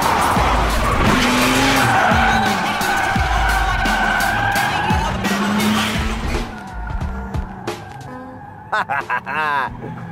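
A Marussia B1 turbocharged V6 supercar drives with tires squealing and skidding, loud and close, the engine roaring over the screech, then fading to short bursts while people talk and exclaim in the background.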